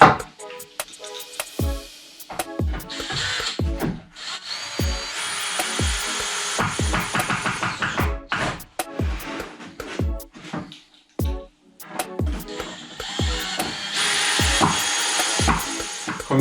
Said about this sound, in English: All you have to do is to screw the wooden plank sideways to your rail.